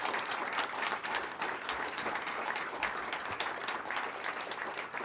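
Steady live-concert applause from an audience at Shawbucks after a song, dense continuous clapping heard clearly without talk.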